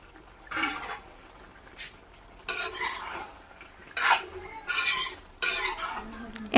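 Potatoes being stirred into a local chicken curry in a pan, four distinct scraping bursts of a utensil against metal separated by short quiet gaps, close and fairly loud with no talking.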